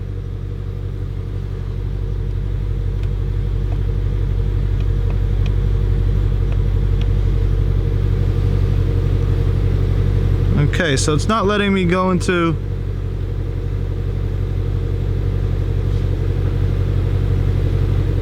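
A 2018 Ford Mustang Shelby GT350 that is being rebuilt after a wreck idles steadily with a deep, continuous engine rumble. Brief speech breaks in near the middle.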